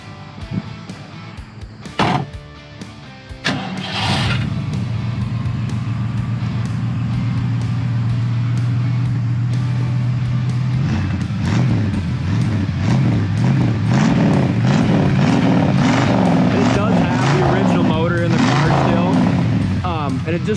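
A 1968 Ford Fairlane 500 Fastback cranks briefly with a couple of sharp clunks, then fires into a loud, steady idle with a low rumble that roughens and pulses after a blip; close and continuous.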